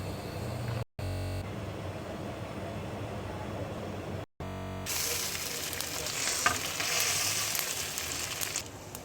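A cornflour-thickened sauce gets stirred in a pan, a soft hiss and scraping that grows brighter and louder after a brief cut, steady and close, with no one talking.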